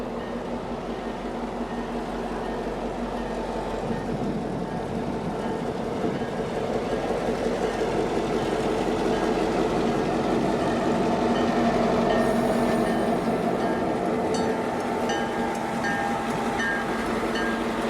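A passenger train on the Whitewater Valley Railroad in winter snow rumbles steadily past close by, with rolling wheel noise and faint metallic squeals building toward the end.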